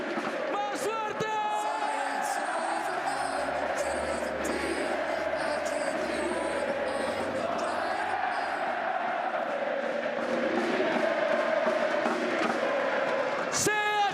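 A huge stadium crowd at a VALORANT Masters Santiago esports grand final roars and chants steadily throughout, dense and loud with bursts of cheering and a commentator talking over it.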